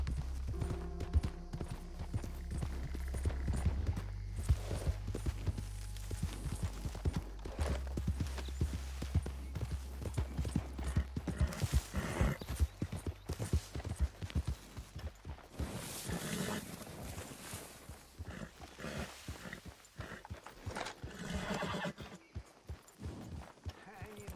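Horse hooves clip-clop in the Red Dead Redemption 2 video game, a steady run of hoofbeats with a low rumbling bed, mid-distance and fairly loud throughout.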